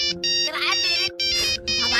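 A mobile phone ringtone plays loudly and close, a bright tonal melody in repeating bursts separated by brief pauses, with faint background noise beneath it.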